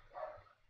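Pet dog barking in the background of a room, a single short muffled bark of under a second, faint and somewhat distant, with no talking.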